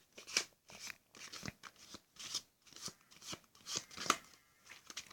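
A deck of playing cards is shuffled by hand in a series of quick, crisp riffling bursts with short pauses between them, close and fairly quiet, with no talking.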